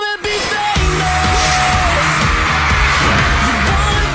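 Crowd of fans screaming and yelling at a sold-out boy band concert in San Diego, a loud, continuous wall of high-pitched shrieks with music underneath, after a brief bang at the start.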